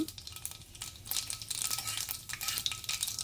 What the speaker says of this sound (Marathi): आता कढईत तीन मोठे चमचे तेल गरम करूया त्यात पाव छोटा चमचा मोहरी अर्धा छोटा चमचा जिरे